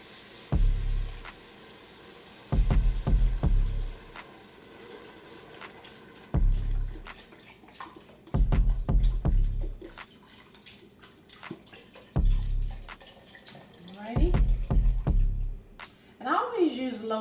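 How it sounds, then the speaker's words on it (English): Low-sodium chicken stock poured into a pot in several splashy bursts with gaps between, close by, faint voices in the background. "Now we're going to add our low sodium chicken stock. You're just going to pour."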